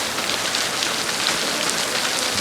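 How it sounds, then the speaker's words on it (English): Rain falling steadily, a dense, even hiss of drops on surfaces filling the whole moment without pause. "It's raining."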